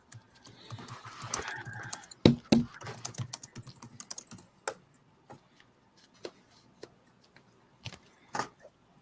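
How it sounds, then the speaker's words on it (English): Keys clatter on a computer keyboard sitting right beside a microphone, with a dense burst of loud close taps and clacks followed by sparser, scattered keystrokes. "I think your keyboard is right next to your mic"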